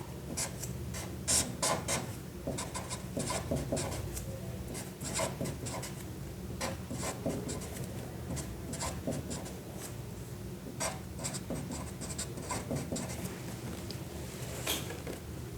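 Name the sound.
writing out a chemical reaction by hand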